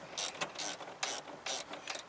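A hand ratchet wrench tightens bolts on the right rear window regulator of a 2008 Pontiac Grand Prix, with several quick bursts of close metallic clicking separated by brief pauses.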